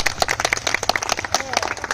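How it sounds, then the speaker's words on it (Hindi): Clapping from a crowd at a Ramlila stage event mixed with a voice speaking loudly over it; the applause patters on steadily throughout. "और इनके लिए जोरदार एक बार तालियां बजाएं"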